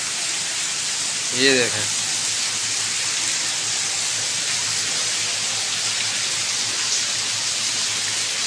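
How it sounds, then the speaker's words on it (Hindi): Steady, dense hiss of heavy monsoon-style downpour fills the whole clip, with a brief phrase spoken in Hindi near the start over the rain. "बारिश का ही शोर है और किसी चीज़ का शोर नहीं।"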